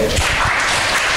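Applause from a school audience at a quiz-game event, a loud dense burst of clapping filling the short moment on its own.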